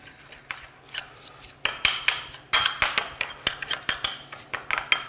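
A pork spice rub with brown sugar is stirred and mixed in a bowl, making close scraping, clinking strokes in an irregular rhythm that grows busier and louder toward the end.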